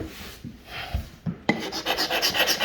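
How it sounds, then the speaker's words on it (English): A small hand scraper rasps across a hardwood floor being prepared for a screen and recoat, starting with a few separate strokes and then settling into quick, steady back-and-forth scraping close up, with no talking. "Let me try my little scraper. See if I can scrape this off right here."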